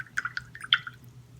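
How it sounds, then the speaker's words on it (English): A paintbrush is swished and rinsed in a small pot of water while painting with watercolor and gouache, giving a few light, quick splashes and drips close by, quiet and with no talking. "So I'm just going to wash out my brush, get a little bit more water in there"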